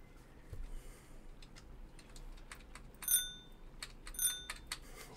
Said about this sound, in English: You push H, you got your bell